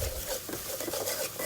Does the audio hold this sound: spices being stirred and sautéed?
yes